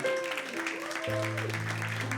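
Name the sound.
congregation applause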